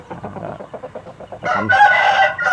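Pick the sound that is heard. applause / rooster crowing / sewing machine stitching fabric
rooster crowing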